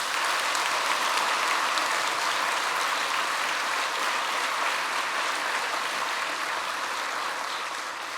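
Church congregation applauding during a Seoul Peace Church 50th anniversary service, a dense, steady wash of many hands clapping that holds loud and even throughout, easing slightly at the end, with no talking over it.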